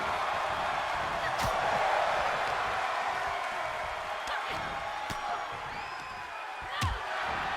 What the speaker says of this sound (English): The crowd going absolutely nuts.